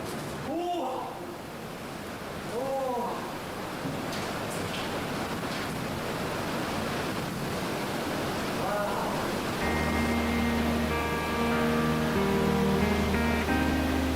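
Niagara Falls roars as a broad, constant rush of falling water heard from below in winter, with a voice speaking over it early and music entering in the later seconds.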